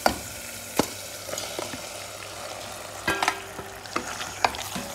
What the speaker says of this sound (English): Now let me add in the mutton.